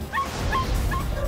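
Several dogs crammed into a small, hot cage whimper and yip in short, strained bursts, close and fairly loud, with repeated high whines.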